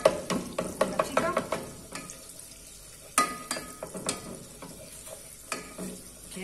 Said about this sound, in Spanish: Que no se nos queme la manteca